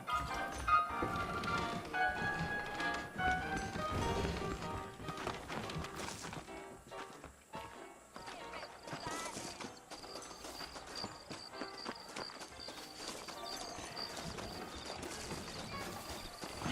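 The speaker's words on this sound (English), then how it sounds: "I got the horses saddled up and ready out front." Horses in the Red Dead Redemption game, set in New Austin, clip-clop along at a steady trot, hooves beating rhythmically under game music and ambient insect chirps, with no talking.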